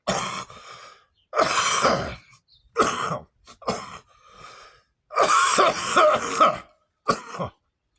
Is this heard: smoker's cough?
yes